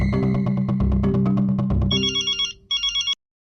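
A telephone ringtone sounds close and clear, a repeating electronic ring pattern that shifts into a higher warbling tone before stopping abruptly, with no voices over it.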